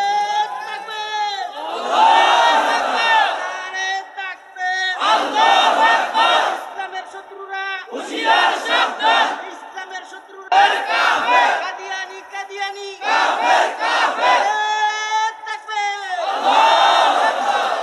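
A large crowd at a Bengali religious gathering roars a chant in unison, loud surging bursts repeating about six times over the span, each swelling and fading with brief gaps between.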